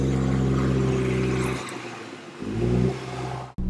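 A 2015 Mitsubishi Outlander Sport with a CVT climbs an off-road hillside at low speed, its engine droning steadily near 2,000 rpm and dipping briefly midway before a sudden cut at the end.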